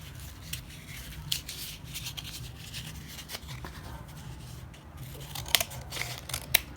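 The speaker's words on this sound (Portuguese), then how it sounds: "E nós vamos cortar onde ficou a marquinha." Scissors cutting folded paper along a crease mark, giving steady close rasping snips and rustling paper at moderate level, with a few sharper clicks of the blades.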